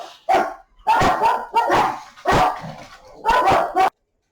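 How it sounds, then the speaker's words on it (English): A dog barks at a car passing outside, a series of five loud, close barks in irregular bursts over about four seconds, with no talking over them. "My dog's decided to bark at a car going past."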